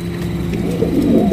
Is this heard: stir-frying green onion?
no